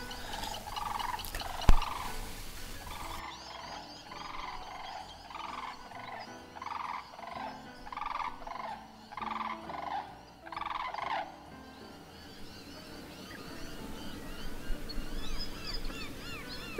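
An adult black-tailed native hen chasing a young hen gives a rapid series of repeated clucking, gobbling calls in regular bursts, fairly close, with a sharp knock near the start and quieter outdoor ambience afterward.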